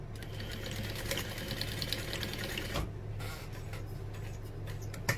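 A sewing machine runs continuously, basting the exterior panel of a barrel bag, a steady rapid needle clatter with a brief pause near the end.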